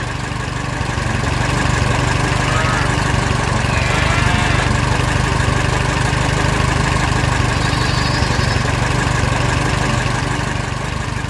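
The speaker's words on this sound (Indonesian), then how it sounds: "Traktor dan alat berat yang misterius bergerak bersama." Tractor and heavy machinery engines running together, a loud, continuous low rumbling drone with a steady idling throb that holds unchanged throughout, with no other sounds standing out.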